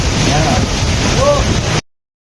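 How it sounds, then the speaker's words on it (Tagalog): Strong storm wind roars across the microphone in heavy, constant gusts, with faint voices briefly audible beneath the buffeting noise. "Pero ang lakas pa rin ng hangin."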